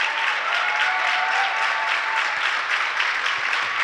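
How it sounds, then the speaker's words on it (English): Home crowd fans at a high school boys basketball game applaud a player being honored, broad sustained clapping from many people in a gym, even and continuous throughout with no voices on top. "Cody Rochelow getting a nice round of applause from the Nashua fans who are here recognizing his high school career"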